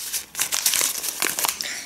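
Continuous crinkling and rustling of a plastic bag being handled up close, loud and steady for a couple of seconds.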